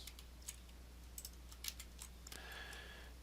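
Quiet keystrokes on a computer keyboard tap out in a few sparse, irregular bursts against a low steady background hum.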